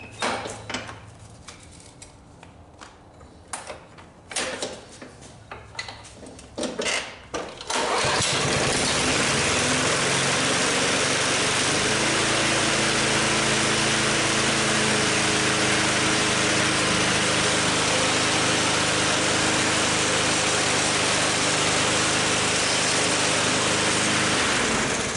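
A 21-inch Snapper commercial self-propelled lawn mower is cranked with a few uneven pulls, then its engine catches and runs at a loud, steady roar for the rest of the clip, close by and with no speech over it.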